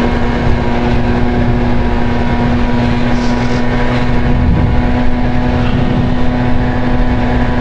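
A Honda Dio scooter rides away, its small engine giving a loud, steady droning buzz while buffeting wind noise runs across the microphone.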